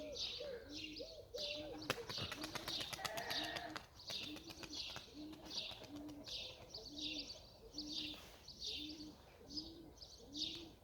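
Pigeons coo in a steady repeating rhythm throughout, with higher chirps above and a brief burst of clattering noise early on, fairly close.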